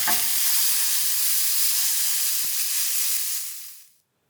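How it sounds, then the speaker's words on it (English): Beef fillet rubbed with olive oil browns in a hot pan, a loud, steady hissing sizzle close by with a single faint knock midway, fading out at the end. "I've browned the fillet on all sides."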